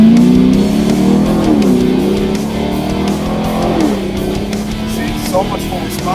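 A car fitted with a ported LT1 throttle body from Mamo Motorsports revs loudly and close by in manual mode. The engine note climbs and falls in several quick sweeps.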